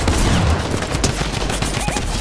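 A minigun fires in Fortnite, a dense and continuous rattle of rapid gunshots, loud and close throughout the whole stretch.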